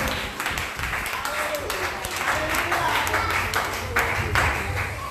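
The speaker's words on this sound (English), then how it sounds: "Clap your hands for the Lord." A church congregation claps hands in praise, a continuous dense wash of clapping over a loud, reverberant backdrop of worship voices and music.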